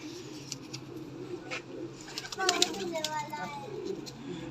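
A male pigeon of a show breed offered as part of a pair gives soft, low cooing in short bursts near the middle of the clip, set against faint background noise and a steady low hum.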